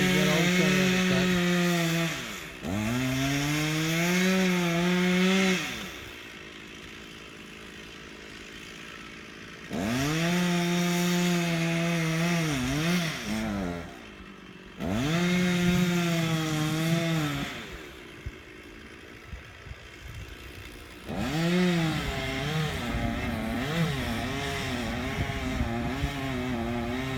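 A chainsaw bores into the trunk of a wild cherry tree outdoors, revving loud in repeated bursts with the engine pitch bending under load, then dropping to idle between cuts.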